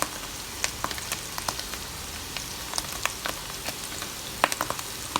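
Mushrooms sautéing in a pan for a keto mushroom sauce give off a soft, steady sizzle dotted with irregular light pops and crackles, fairly quiet and without voices.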